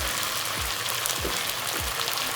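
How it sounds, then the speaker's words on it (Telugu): Egg fried rice sizzling in a pan over a high flame, a steady bright frying hiss throughout with a few low thumps as the rice is tossed, no voices. "ఇలా ఈ విధంగా హై ఫ్లేమ్లోనే వేయించుకోవాలి"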